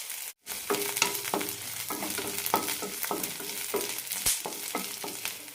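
Onion sautéing in oil in a pan until transparent, cooked for a banana flower curry: a steady sizzle with repeated scraping stir strokes of a spoon against the pan, close and continuous, with no talk.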